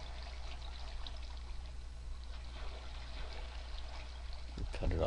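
Water flowing through a cave in the video game Minecraft, a soft, steady trickling stream heard quietly at an even level, with a brief louder bump near the end.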